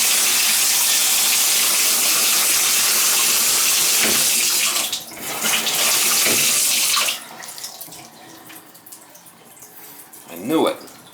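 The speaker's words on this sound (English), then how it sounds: "See it? I can see it dripping." A leaking Symmons tub and shower valve with water flowing and spattering, a steady rush that drops off partway, leaving quieter drips and trickles, with someone talking briefly near the end.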